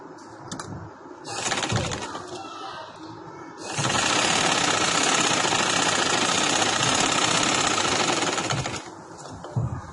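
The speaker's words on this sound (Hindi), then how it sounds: "बस अब मैं इधर तक सिलाई लेके आऊंगी," Sewing machine stitching a lawn and cotton salwar, a steady dense mechanical whirr in one long sustained run after shorter bursts, close and loud with no talk over it.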